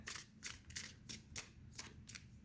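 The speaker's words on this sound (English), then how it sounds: "I've been shuffling your cards. Just going to give another quick shuffle" Tarot cards are given a quick riffle shuffle, producing bursts of crisp, papery flutter roughly every half second at moderate volume, with no talking.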